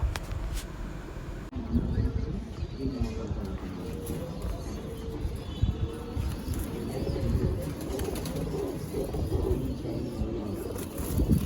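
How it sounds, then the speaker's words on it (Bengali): Giribaz pigeons at a pigeon market coo in low, steady murmurs beneath a busy, noisy background of indistinct crowd sounds. "এটা ধাড়ি পায়রা, এর জোড়া আছে"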